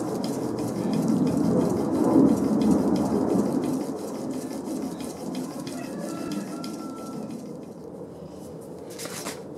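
Steel plane iron rubbed back and forth on a sharpening stone, a continuous close gritty scraping that is strongest early and fades, ending in quiet with one brief clatter.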